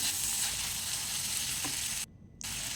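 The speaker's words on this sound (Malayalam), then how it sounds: "ചെറുതായി അരിഞ്ഞ് വെച്ചിട്ടുണ്ടായിരുന്നു, അതും കൂടി ഇട്ട് കൊടുക്കുന്നുണ്ട്. നമുക്കൊന്ന് മിക്സാക്കി കൊടുക്കാം." Lentil curry with drumstick leaves sizzles steadily in a pan as chopped tomato is stirred in, a continuous close frying hiss with a brief scrape, then a short drop to near silence before the sizzle resumes.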